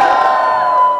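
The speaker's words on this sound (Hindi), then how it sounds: "कितने लोग हरी को देखना चाहते हैं, वो थोड़ा चिल्ला के दिखाएंगे" Audience at a sangeet event at the Westin Hyderabad shouting and cheering loudly in a brief burst, a dense crowd roar close and full.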